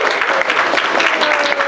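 Convention audience applauding steadily at a Q&A panel for voice actors, a dense, continuous wash of many hands clapping at close range throughout.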